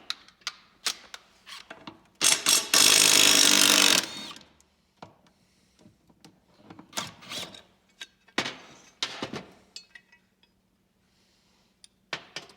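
Wrench loosening the 5/8 blade bolt on a 2020 Craftsman lawn mower, sharp metallic clicks and taps with a loud burst of rapid ratcheting, followed by scattered knocks and pauses.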